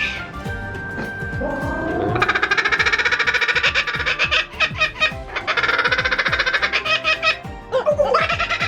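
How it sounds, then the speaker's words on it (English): Kookaburra at a falconry display, calling with a loud, rapid, cackling laugh-like chatter that rises into long rolling bursts, close and dominant over faint background voices. "And I really like the kookaburra."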